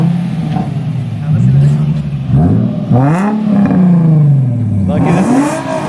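A Nissan 350Z with a custom single-exit exhaust and no catalytic converter revs up and down repeatedly, rising and falling whines with a few crackling exhaust pops, loud and close, with voices talking over it.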